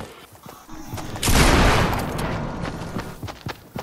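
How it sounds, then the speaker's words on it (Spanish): Burst of sustained gunfire in a PS4 video game, a loud dense volley starting abruptly and rolling on for a couple of seconds with scattered shots before and after. "¡Uy, están disparando!"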